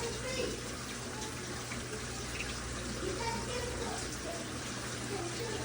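Water runs steadily from a tap for hand washing indoors, a soft continuous splashing hiss, fairly faint, with low background hum and no clear talk.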